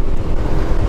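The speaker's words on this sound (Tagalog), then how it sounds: "Alam kung naririnig nyo, pero lakas ng hangin." Strong wind roars across the microphone while riding a Honda PCX scooter on a mountain road, a loud, continuous low buffeting with engine rumble beneath and no talking.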